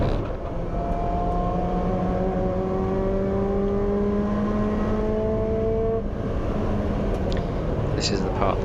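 Mazda MX5 race car engine droning at steady high revs on a circuit, its rising harmonic tones sustained and loud throughout, with a second car's engine mixed in as the faster 2-litre rival pulls away.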